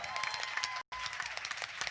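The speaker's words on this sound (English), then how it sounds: "So everybody give Miss Mia a big round of applause." Live audience at a Nashville songwriter showcase applauding a young performer: a brief, dense patter of clapping heard fairly close, cut by a short gap of silence before resuming.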